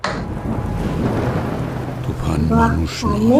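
Heavy rumbling thunder with a steady wash of rain from a film trailer, loud and continuous, followed by a rising, resonant effect near the end.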